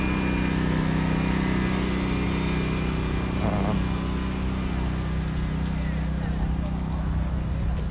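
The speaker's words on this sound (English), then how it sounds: "Sorry about the loud generator." A loud generator runs steadily at a roadside tent camp for fire refugees near a food truck, its constant low engine drone filling the scene from start to finish.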